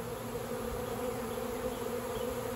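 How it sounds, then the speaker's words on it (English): A swarm of more than 70,000 honeybees, some heavy with honey, makes a constant dense buzz all around at close range, with no voices. "I'm literally laying in the swarm, and bees are crash landing around me right now."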